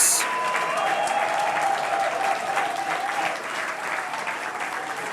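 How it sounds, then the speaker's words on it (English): Sustained audience applause for awardees at a UNISA research and innovation awards ceremony, a loud, dense wash of many hands clapping that carries on for several seconds and eases off slightly near the end. "Let's give them one final round of applause."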